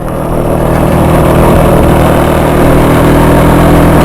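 A 1938 NSU Quick 98 motorcycle engine drones loudly and continuously while riding uphill off-road through woods, a low rumbling motor under load with no letup.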